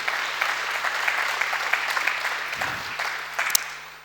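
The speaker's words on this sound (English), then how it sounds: "Yes, round of applause." Steady audience applause at the closing of a carbon conference forum, a dense wash of many hands clapping at a moderate distance, continuing evenly before tapering off slightly at the end.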